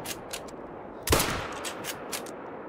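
A single hunting rifle shot in theHunter: Call of the Wild, one sharp crack with a short rolling tail over faint ambient outdoor game sounds.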